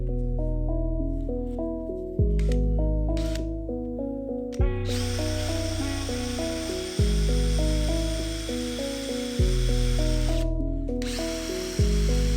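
Power drill bores repeated holes in a melamine panel, each a close, loud whine that slows and drops in pitch, with short pauses and ratchety clicks between passes, about five in a row.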